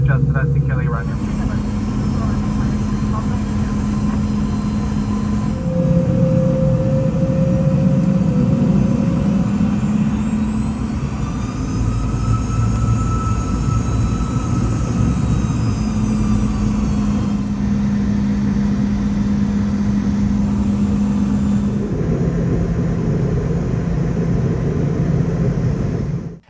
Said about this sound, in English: And here we go for our takeoff on runway 26 left